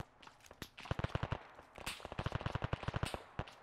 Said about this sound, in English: Yo, I'm getting shots from the southwest.